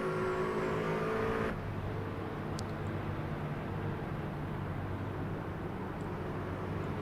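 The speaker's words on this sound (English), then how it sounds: "And it just sounds like the truck is not under power." A race truck's engine in a truck series race drones and then cuts off abruptly as it loses power, leaving a lower, steady rumble of running and passing vehicles, heard from an onboard camera.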